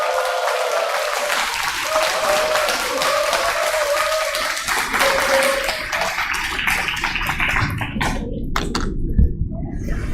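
Audience applause at a CEO invitation lecture at Jogyesa Temple, sustained and dense clapping from a crowd indoors, loud and continuous for several seconds, with faint voices mixed in and a brief tonal ring early on.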